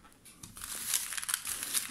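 Twenty small folded paper slips are stirred together inside a container for a prize draw, giving a continuous close, soft crinkling and rustling that builds slightly in loudness.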